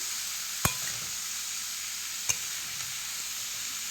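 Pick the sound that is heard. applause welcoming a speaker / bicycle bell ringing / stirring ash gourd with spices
stirring ash gourd with spices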